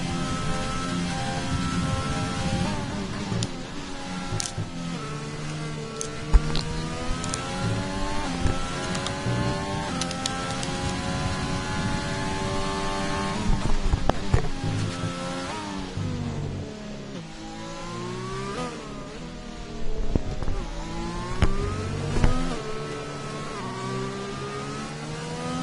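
Onboard a race car in a racing video game, lapping a circuit: a whining engine climbs and drops through gear shifts and corners, steady and close for the whole lap, with no one speaking.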